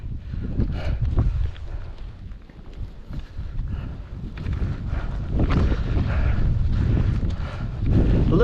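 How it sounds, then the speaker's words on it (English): Gusting wind buffets the microphone on a dark, drizzly mountain ridge along the Appalachian Trail, a steady low rumble that swells and eases throughout. "A little bit more windy up here."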